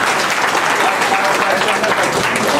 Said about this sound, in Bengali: আপনারা জোরে করতালি দিলেন।